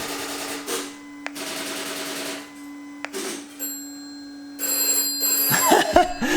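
A 1970s wireless home phone rings in repeated electronic bursts with short gaps, close and clear over a steady background hum, with a brief clatter of handling near the end.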